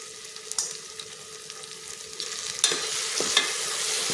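Spices being stirred as they fry in a pan for chana pulao, a quiet steady sizzle with soft scraping strokes throughout.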